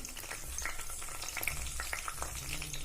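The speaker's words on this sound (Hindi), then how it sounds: "तेल गरम हो चुका है, तेज पत्ते और साबुत मसाले डालेंगे हम" Bay leaves and whole spices crackle in hot oil, giving a dense close sizzle dotted with small sharp pops throughout, with no one talking.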